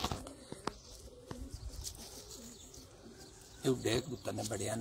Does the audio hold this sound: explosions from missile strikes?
no